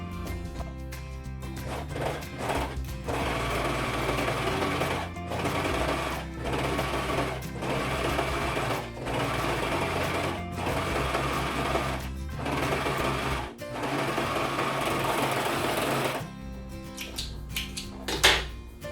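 A sewing machine stitches the base of a blouse facing, running in loud, rapid mechanical bursts separated by short regular pauses, then slowing to a few clunks at the end.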